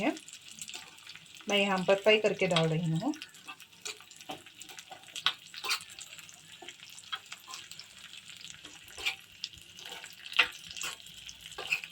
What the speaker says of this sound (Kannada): ನೀವು ಕಪ್ಪು ದ್ರಾಕ್ಷಿಯನ್ನು ಫ್ರೈ ಮಾಡ್ಕೊಳ್ಳಿ